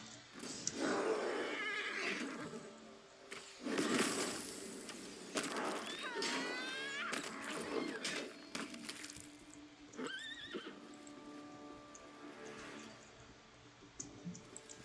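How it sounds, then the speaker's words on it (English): A horse neighing in a video game, several loud whinnies with trembling pitch, amid clicks, hoof-like clops and other game sounds. "Tell the horse to charge the gargoyle as well."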